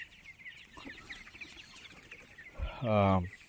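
Twenty-six-day-old Tiger chickens on a farm give scattered soft clucks and chirps at low level, then one louder, nearer call near the end.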